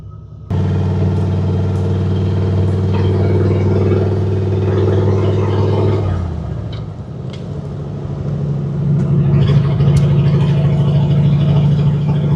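A turbocharged 1950 Ford's engine drones steadily while driving, drops away briefly as the revs fall, then picks back up into a stronger, steady hum, loud and close throughout with no talk.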